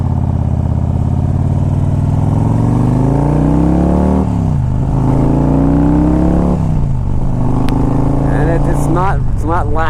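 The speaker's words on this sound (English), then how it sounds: "This bike's got a nice low idle." A 2001 Harley Davidson Ultra Classic motorcycle engine idles low and close by, a steady throbbing drone that rises and falls gently in pitch as the revs shift slightly.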